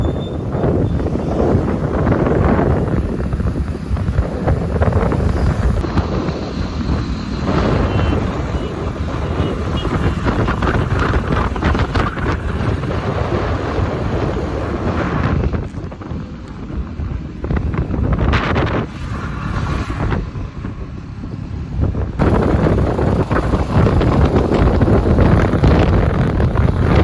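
Strong wind buffeting the microphone at Dumas beach in Surat on a cloudy, rainy day, a loud continuous roar with gusty surges and brief lulls, with faint voices in the background.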